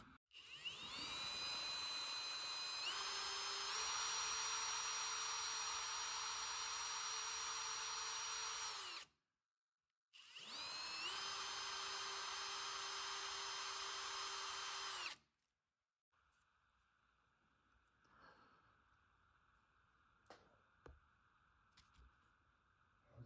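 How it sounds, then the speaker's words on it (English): A Dremel rotary tool cuts grooves in wood for scale tank ammo crates, a loud high whine running in two long bursts with a short break between, then stopping to leave faint handling clicks. "I'm gonna go ahead and Dremel this and just make grooves so it has something to"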